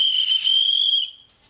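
A single shrill, sustained whistle sounds loud and close, holding a steady pitch for about a second before tapering off into quiet.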